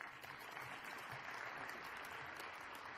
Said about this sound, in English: Jim, can you please give him a round of applause?